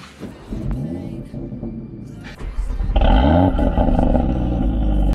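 An Audi RS3 Stage 2 engine cranks and fires, then idles before a louder, deep revving roar builds and holds close to the car.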